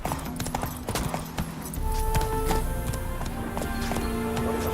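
Roach, a horse in the Witcher 3 video game, gallops with a rapid, steady clip-clop of hooves, loud and close, with a brief whinny amid game sounds and no talk.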